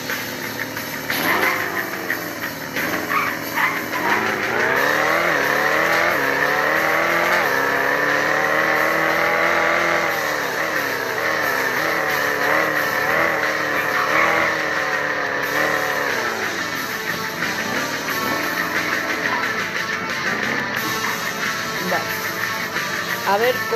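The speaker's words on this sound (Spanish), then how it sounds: "Es mucho mejor que la aceleración de los otros dos coches" Ford Mustang accelerating, a loud close engine whose pitch climbs and falls through several revving sweeps, sustained for over twenty seconds with a continuous mechanical roar.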